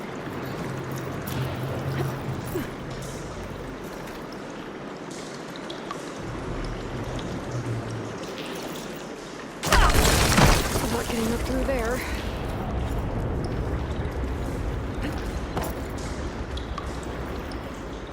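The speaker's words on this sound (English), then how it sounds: "Get that water circulating." Water rushes and pours through pipes after a valve opens in a sandy ruin in Horizon Forbidden West, a sudden loud surge midway that settles into a steady flowing wash, with a voice talking over parts of it.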